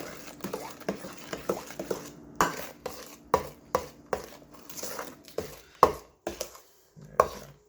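Cheesecake batter being mixed by hand in a bowl, a run of irregular scraping and tapping strokes with short pauses between them, close and moderately loud, with no talking.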